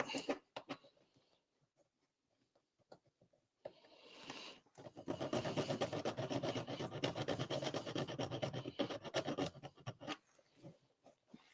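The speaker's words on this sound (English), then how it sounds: "The mic's not picking up that filing sound too badly." Metal file strokes on a small model railway part make a close, rhythmic rasping scrape, with a few quiet clicks at first and then a sustained run of fast back-and-forth filing before it stops.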